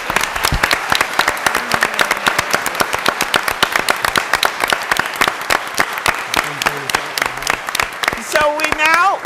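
Loud, sharp applause fills a school board meeting room, with many close hands clapping in a dense, uneven rhythm throughout, and voices speaking over it at times, including near the end.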